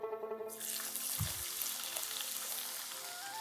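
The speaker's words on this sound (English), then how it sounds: "Now I'll be adding the sliced onions." Sliced onions drop into hot mustard oil already infused with cinnamon sticks and cardamom, setting off a sudden loud sizzle that settles into steady frying crackle for the rest of the moment.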